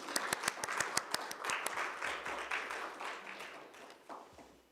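Audience applause welcoming a university president at a Seoul National University education committee presentation, a crowd of hands clapping steadily throughout, with a few sharper individual claps standing out at the start before the sound thins toward the end.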